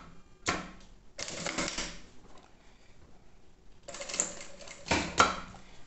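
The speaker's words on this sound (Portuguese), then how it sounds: "Vou dobrar ele aqui e passar a costura," A sewing machine stitches a zipper onto synthetic fabric in two rapid mechanical bursts separated by a quiet pause, close and fairly loud.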